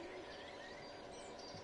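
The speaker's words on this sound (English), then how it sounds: "Oh, lovely to hear the birds and the wildlife." Faint ambient birdsong and wildlife chirps at a rural German station on the Niddertalbahn line in the Train Sim World 5 video game, a soft continuous outdoor bed with no talk.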